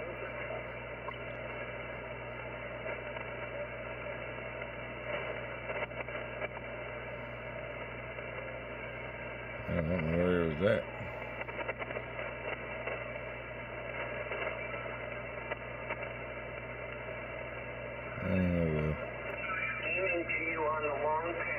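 Radio signal received on a radio set, a steady band-limited hiss and hum with murmured transmitted voices running throughout and two brief bursts of warbling interference.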